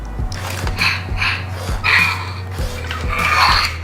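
A dog barking close by in a home, a series of short sharp barks and snorting breaths repeating roughly every half second, loud and alone without talking.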